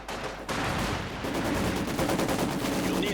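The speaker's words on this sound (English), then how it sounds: "Two Maxims bearing down upon them. A lethal amount of fire" Two Maxim machine guns fire in a Company of Heroes match, dense rapid bursts of rattling gunfire that start after a brief gap and run continuously and loud to the end.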